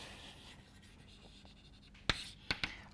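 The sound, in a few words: writing down a theorem during a math lecture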